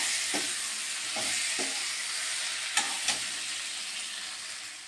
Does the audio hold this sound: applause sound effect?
no